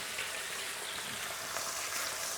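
Pork knuckles (Haxen) searing in hot oil in a pan, a steady, close, dense sizzle and crackle of frying that holds evenly throughout with no talk over it.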